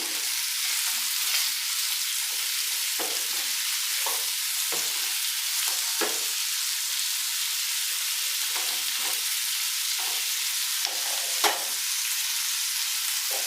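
Potato fry sizzles loudly and continuously in a pan after salt goes in, with repeated scraping and stirring strokes of a spoon through the food, close up and alone without talk.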